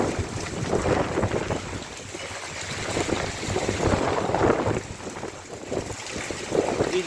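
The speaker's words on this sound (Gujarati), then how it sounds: "ખૂબ જ સુસવાટા પવનના સુસવાટા સાથે જોરદાર વરસાદ ચાલુ છે" Strong gusty wind with heavy rain roars and buffets the microphone continuously during a sudden summer storm, a dense, unbroken rushing noise with no voices.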